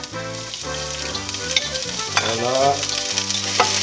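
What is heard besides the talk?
onions frying in a pan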